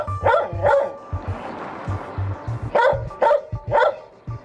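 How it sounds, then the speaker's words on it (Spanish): A small dog trapped inside a sewer drain gives a series of sharp, close barks in short bursts, with a muffled, echoing quality and brief pauses between them. "Cuando no oía voces acá, ladraba."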